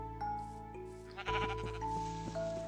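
Sheep in the Minecraft video game bleating, several short nasal baas in quick succession, close and clear over a steady layer of game music.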